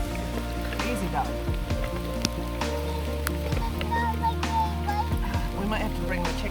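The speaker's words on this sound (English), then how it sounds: "Oh, please don't rain very hard on us." Steady rain falls on an open pasture where chicks are being raised, a continuous hiss of drops on the ground and surfaces running through the whole stretch, with a voice talking over it now and then.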